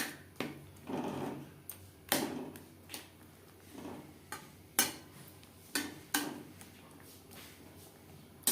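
A spoon scrapes and knocks against a pan while sugar is stirred into cooking tomatoes for chutney, in irregular clinks and scrapes about once a second, moderately close, with no talk.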